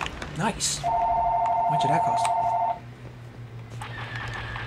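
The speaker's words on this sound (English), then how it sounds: "Sorry about the phone ringing in the background" A telephone rings in the background as a steady electronic tone lasting about two seconds, mixed with video game sounds of Star Wars Battlefront and someone talking.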